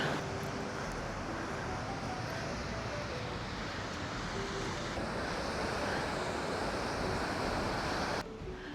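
Ocean surf washing onto an Australian shore, a steady broadband roar of breaking waves with wind noise on the microphone, continuous and fairly close for the whole stretch with a brief dip near the end.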